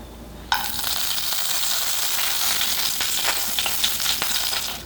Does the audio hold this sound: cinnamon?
yes